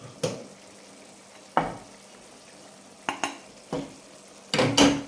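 A spoon scrapes and knocks through curry in a pot in a handful of separate strokes, closely miked, with quiet gaps between each stir and a faint simmer beneath.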